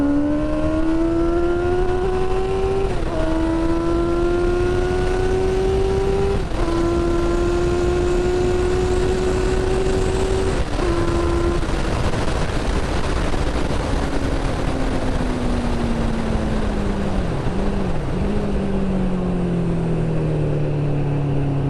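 Suzuki GSX-R750 sport motorcycle accelerating hard on a night ride, the engine note climbing through several gear changes with brief dips, then winding down, loud and close throughout over constant wind rush.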